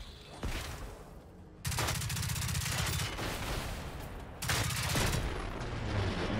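Experimental ammo firing in the video game Generation Zero, loud sustained bursts of heavy automatic gunfire in two long stretches separated by a brief lull.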